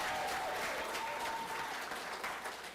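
An audience at a Tanzania Diaspora Day proclamation in Durham breaks into steady applause, a dense wash of clapping from a crowd that holds evenly for a few seconds, heard a little distant.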